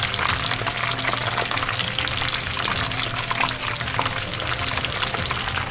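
Egg rolls fry in hot oil with a dense, steady sizzling crackle heard up close throughout, while a voice briefly speaks over it.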